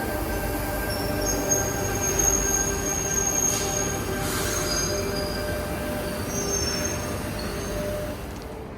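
A Sydney passenger train in motion, its wheels giving thin high-pitched squeals that come and go over a steady rolling rumble, heard from inside the carriage with no talking.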